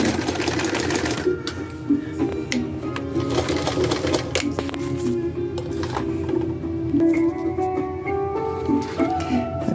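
A Kenmore 1755 sewing machine stitches a denim zipper bag, its needle running in fast steady bursts with short pauses, loud and close.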